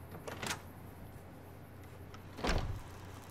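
A door opening in Fallout: New Vegas, two brief sliding whooshes about two seconds apart, the second louder, over a quiet low hum with no talking.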